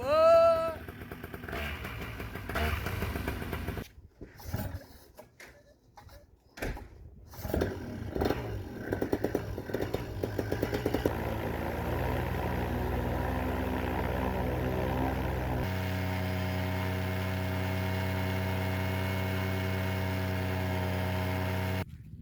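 A newly built Gravity Defy paramotor engine sputters through a few coughing start attempts, then catches and settles into a steady, loud buzzing two-stroke drone that holds for the last several seconds, close by.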